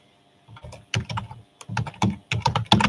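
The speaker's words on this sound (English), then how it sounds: "I'm just typing here for now." Rapid, uneven clatter of keys on a computer keyboard, close by, in short bursts with brief pauses.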